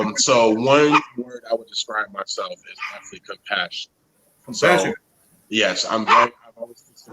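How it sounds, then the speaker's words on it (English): A house dog barks now and then in the background, with short yips coming through under a person's steady, close-range talk. "don't mind my dog in the background."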